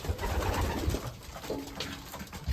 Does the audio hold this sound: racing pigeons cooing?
yes